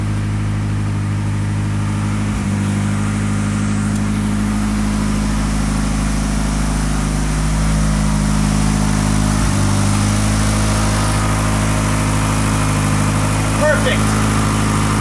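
A Mini Cooper fitted with a 4G63 engine idles rich, a steady loud drone with constant low harmonics that barely varies across the whole stretch, heard close up.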